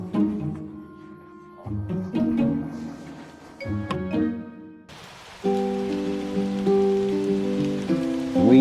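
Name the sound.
rain falling in Quang Ngai, Vietnam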